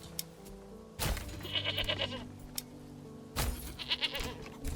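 Goats in the medieval video game Manor Lords let out two loud bleats a couple of seconds apart, each a harsh wavering cry over quiet game ambience.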